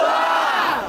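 Audience at a rap battle cheering and shouting, a loud dense roar of many voices that holds steady for under a second before starting to fade.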